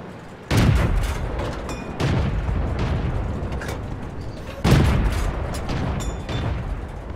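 Tank cannon shells fire and burst in a video game, two heavy booms about four seconds apart, each with a long rumbling decay, over a steady low battle drone.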